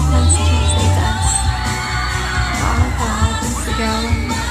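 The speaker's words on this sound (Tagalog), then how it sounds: "Nakakatawa ng sigawan." A large crowd of fans at a fan event in Cebu screams and shouts continuously, with scattered whoops and yells rising over a dense, close, steady roar.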